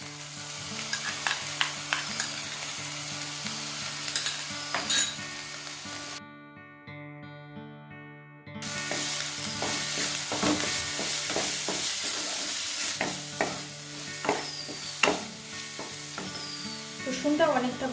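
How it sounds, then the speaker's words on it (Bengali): Garlic paste frying with onions in a pan, a steady close sizzle with frequent metallic spatula scrapes and stirring clatter; the frying drops out briefly midway, then returns loud and busy. "রসুনটা অনেকটা ভাজা হয়ে গেছে"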